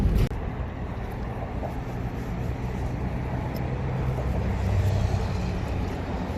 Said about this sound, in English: Walking underneath the bridge, so the cars are all going over the top of us,